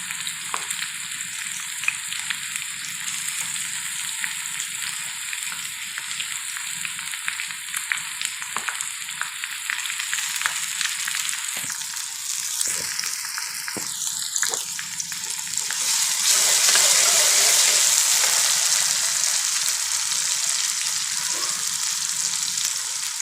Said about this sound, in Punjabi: ਇਸ ਨੂੰ ਵੀ ਆਪਾਂ ਚੰਗੀ ਤਰ੍ਹਾਂ ਭੁੰਨ ਲਾਂਗੇ ਜੀ